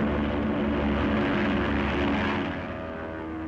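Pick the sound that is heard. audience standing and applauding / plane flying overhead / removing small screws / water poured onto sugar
plane flying overhead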